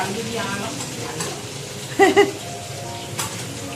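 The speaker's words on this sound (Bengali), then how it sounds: "উচ্ছে উচ্ছে আলু ভাজা হচ্ছে" Low frying sizzle of bitter gourd and potato runs under a few scraping stirs of a spatula, with a couple of sharp clinks from a pan midway and faint voices.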